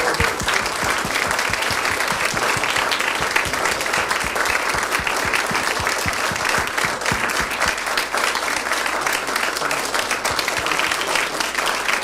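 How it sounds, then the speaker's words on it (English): Audience applauding a handbell ensemble after a church concert, a steady, dense wash of clapping from many hands that holds evenly throughout, with a few faint cheers mixed in. "let's give them another round of applause."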